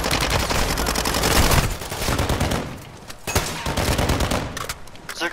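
Dense automatic gunfire from a firefight in Call of Duty: Modern Warfare II, loud overlapping bursts with a brief lull before more sharp shots crack through.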